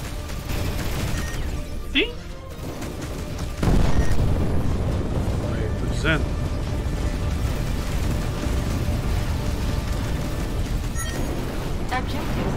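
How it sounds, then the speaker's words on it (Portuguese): Nuclear bomb blast in the space game Between the Stars: a heavy low boom swells in and then lingers as a loud, sustained rumble, heard alongside game sounds and some talk. "Bomba nuclear lá, vai"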